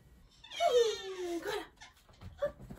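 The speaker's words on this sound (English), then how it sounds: "This is my doggy." A dog whimpers in a rising then falling whine lasting about a second, followed by a brief softer whine and faint shuffling.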